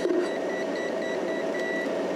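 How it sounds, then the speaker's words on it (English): Short, regular high-pitched beeps from a clamp meter repeat about twice a second over a steady electrical hum, with a brief tone near the start, during a battery stress test at about 220 amps. "I was hearing this beeping sound, and it's actually the amp meter, the clamp meter."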